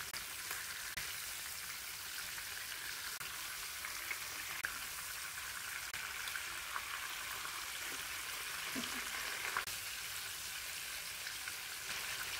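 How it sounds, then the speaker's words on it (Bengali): Chicken pieces fry lightly in hot oil in a pan, a steady, quiet sizzling hiss with scattered small pops, heard alone and close. "চিকেন 2 থেকে 3 মিনিট জাস্ট হালকা ফ্রাই করে নেবেন।"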